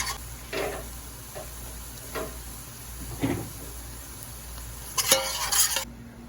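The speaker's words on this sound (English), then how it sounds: "Whenever you add this flour, you really just want it to cook for maybe 2 minutes, just to kind of cook that chalkiness out of the flour" Flour cooking and being stirred in a pot while making red wine braised short ribs, heard as soft scraping stir strokes over a faint sizzle, then a louder burst of clatter near the end. It is close and there is no talking.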